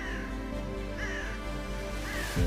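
Crows caw at a sky burial site, giving a few drawn-out calls spaced about a second apart, moderately distant over a steady low hum and rhythmic soft thumps.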